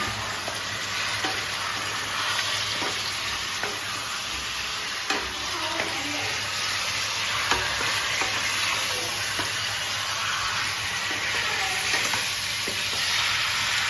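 Chicken and potatoes fry with ginger, garlic and spices in a pan, giving a steady close sizzle broken by frequent light scrapes and clinks of stirring, with no talking.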